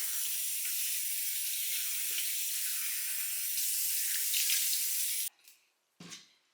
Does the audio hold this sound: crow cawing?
no